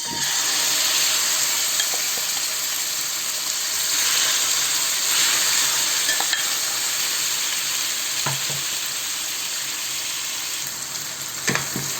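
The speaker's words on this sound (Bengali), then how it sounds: "আর এই ম্যারিনেট করে রাখা মাংসটাকে আমি দিয়ে দেব তেলের মধ্যে" Marinated beef laid into hot oil for a Chinese beef biryani fries in a continuous loud, hissing sizzle, close up, with a couple of faint utensil knocks late on and no voices.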